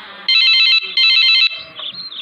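A telephone rings in a cartoon-style scene, two loud, steady electronic ring bursts repeating in an even rhythm, then a softer trailing tone with faint background noise.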